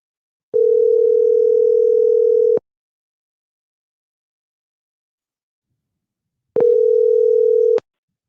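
A telephone dial tone sounds loud and steady in two separate bursts of about two and three seconds each, with several seconds of silence between them and no voices.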